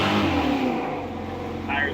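A 1935 Factory Five hot rod truck with a Ford Racing 427 engine pulls away, its low, steady engine rumble building briefly and running close throughout, with a light higher whine near the end.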